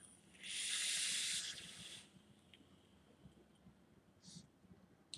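A long hissing exhale of e-liquid vapour from a dripper atomizer, one broad breathy burst lasting about a second and a half, then a quieter brief puff later, close and alone.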